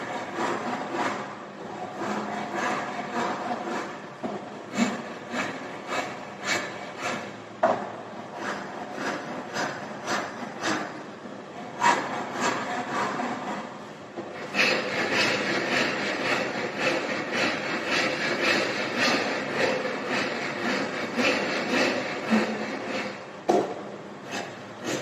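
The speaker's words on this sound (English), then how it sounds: "Now both the surfaces are made smooth with the help of this rasp cut" Rasp filing a wooden workpiece smooth in a carpentry shop, with repeated scraping rasping strokes in an irregular rhythm, close and fairly loud, growing denser and more continuous partway through.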